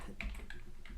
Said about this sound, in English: Just got to type the URL in